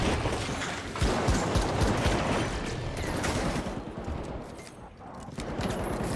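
Sustained gunfire and explosive crackle in the arena shooter The Finals, a loud, continuous barrage of shots with mechanical clatter, close and busy, easing briefly near the end before picking up again.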